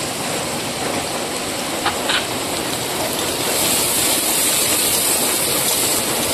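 Sudden rain pours down outdoors in a village, a dense, steady hiss of drops that swells slightly louder toward the end, with no voices.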